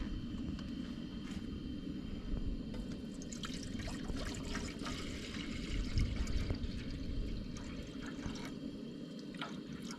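Water is poured from a container into a cooking pot at a solo truck campsite to boil pasta, a steady trickling splash heard faintly for the whole stretch over low outdoor rumble, with no talking.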